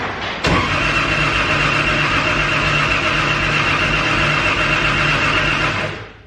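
A 1JZ engine swapped into a Nissan 240SX cranks briefly in a garage and catches right away, settling into a loud, steady, close-up running rumble that holds for several seconds before cutting off, with no voices.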